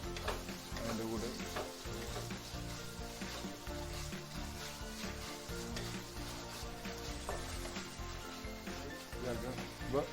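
Ginger paste and chopped garlic fry in a pan for soybean roast, a continuous close sizzle with stirring scrapes, while a person talks over it throughout.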